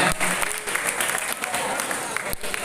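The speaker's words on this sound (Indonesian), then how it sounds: "tepuk tangan buat Ridho" Audience clapping for Ridho, a student at a Ramadan pesantren morning study session, a steady mid-level patter of hands filling the hall for under three seconds with some voices mixed in.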